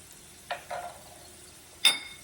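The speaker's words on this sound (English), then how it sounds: "Let me stir this for a bit." Scrambled eggs and potato fries are stirred in a pan, giving three short, distinct scraping strokes with a light sizzle, the last one brightest and sharpest, over a quiet background with no talking.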